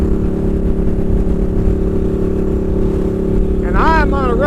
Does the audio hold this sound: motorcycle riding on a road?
yes